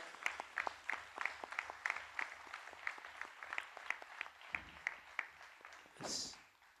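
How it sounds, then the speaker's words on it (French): Applause during a testimony at a French-speaking church gathering, a sparse, quiet rhythm of individual claps repeating steadily, ending with a brief softer rustle. "tu peux applaudir à lui"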